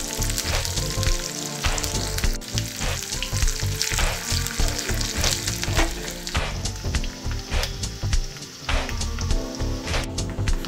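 A tempering of cumin seeds, garlic, green chilies and curry leaves fries in hot oil for a coconut ivy gourd chutney, giving a loud, close, continuous crackling sizzle with frequent sharp pops and spits.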